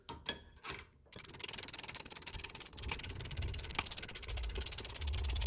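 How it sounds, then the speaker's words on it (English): A regular ratchet wrench works a 19mm brake caliper bolt on a 2019 Infiniti QX60 during a pad and rotor job, giving a fast, steady run of close clicking after a few brief knocks. "Just a regular ratchet wrench will do"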